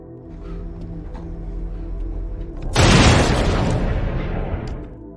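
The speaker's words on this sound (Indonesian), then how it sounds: "Kemudian Tony langsung menembak mati Reed." A single heavy gunshot in an action film bursts out over a low rumbling score, the blast booming loud and then decaying slowly into the background music.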